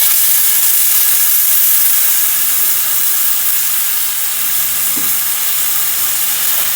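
Canned 555 tuna sisig hits a hot pan and sizzles with a loud, steady hissing roar, close and continuous, with one brief clunk partway through.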